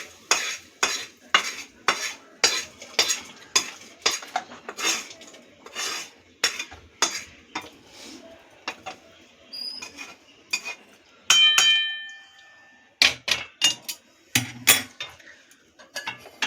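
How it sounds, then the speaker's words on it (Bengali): Metal utensils clatter and scrape as cooked mung dal is shifted from one wok into another, a run of sharp, rhythmic clinks and knocks up close, pausing briefly before a few final bangs. "এবার আমি এটাকে অন্য একটা কড়াইতে নিয়ে নিচ্ছি।"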